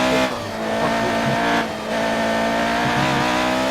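Classic race car in F1 2018 with its engine blaring continuously and loud, briefly dipping then rising again as it revs, with tire squeal mixed in and no one talking.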